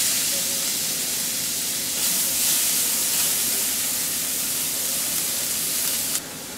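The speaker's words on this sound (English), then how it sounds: "I'm going to saute this down for a little bit." Celery and onion sautéing in butter in a pan, a steady close hiss of frying that swells slightly midway and cuts off abruptly near the end.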